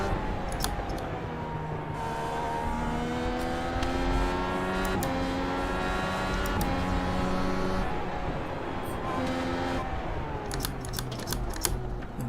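A Dallara IR18 open-wheel race car in iRacing, engine pitch climbing through repeated upshifts and dropping under braking, with sharp clicks of gear changes over a steady mid-level roar.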